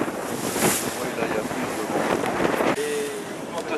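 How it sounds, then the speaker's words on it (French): Strong wind and rushing waves surround sailing boats at sea in a 12 to 15 knot breeze, a loud continuous roar of wind buffeting the microphone with splashing water throughout. "il y a pas mal de vagues quand même, avec un vent de 12 à 15 nœuds"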